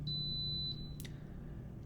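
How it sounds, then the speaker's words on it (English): A Z-Wave smart home hub entering add mode gives one sustained high electronic beep, clear and steady for most of a second over a low room hum, followed by a brief faint click. "You would hear the beep, like my hub will probably do here."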